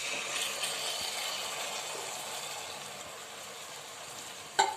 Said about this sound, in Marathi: आपण ह्या मेथ्या यात टाकूया